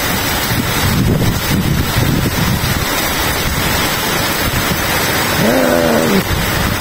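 Strong wind in Qatar during a storm with rain, thunder and lightning buffets the microphone in a steady roar, with a brief voice-like tone rising near the end.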